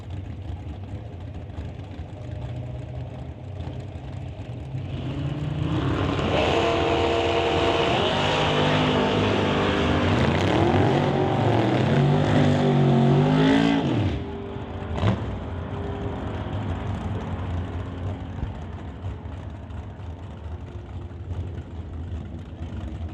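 Chevy S10 drag racing trucks at an NHRA Summit ET Series event, engines swelling from a distant rumble into a loud roaring pass for several seconds, pitch sweeping as they shift, then fading back to crowd ambience with a sharp pop.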